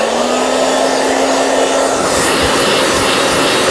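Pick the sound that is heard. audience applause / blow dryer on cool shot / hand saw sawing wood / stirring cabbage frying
blow dryer on cool shot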